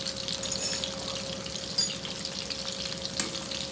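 Prawns fry in hot oil in a pan, a steady crackling sizzle with a couple of louder spitting bursts, close and alone without any talk.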